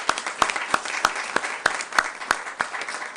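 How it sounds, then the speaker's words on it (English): Applause at a state bill signing ceremony, with a room of people clapping, sharp individual claps standing out in a steady, fairly loud and close rhythm over the general clapping. "So let's give a round of applause to everyone in this room"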